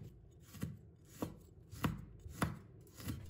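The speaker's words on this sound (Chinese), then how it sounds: "接下来我们准备几个小米椒，把头切掉不要，再切成小圈。" A knife chops small red bird's eye chili peppers into rings on a board, five or six distinct, evenly spaced taps, close and fairly quiet with no talking.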